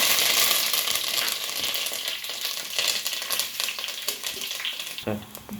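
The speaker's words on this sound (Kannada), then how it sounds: "ಸಾಸಿವೆ ಕಾಳು ಸಿಗುತ್ತಾ ಉಂಟು" Mustard seeds splutter and pop in hot oil, later joined by crushed garlic, for a bitter gourd stir-fry; a steady close sizzle runs throughout with scattered sharp crackles.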